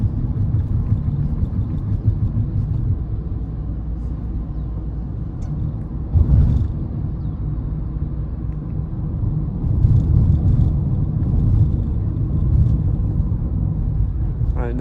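A 2023 Perodua Alza H climbs a hill with the air-conditioning compressor running, its engine a loud steady low rumble heard from inside the cabin, with a short knock or thump partway through.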